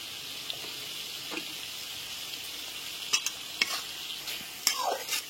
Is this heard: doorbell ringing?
no